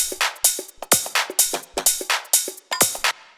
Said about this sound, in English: So the next thing that we have here is the percussion, which altogether sounds like this.